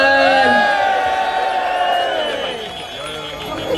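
Crowd noise at a London street show during a drum and bass performance, loud and continuous, with voices shouting and whooping under sustained tonal feedback from a microphone.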